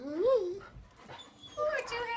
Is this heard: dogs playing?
yes